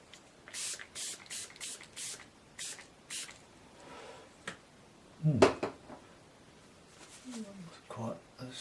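Short bursts from a spray bottle misting water over a watercolour painting of the River Wandle, several quick puffs in a row followed by a pause, with a person speaking briefly nearby.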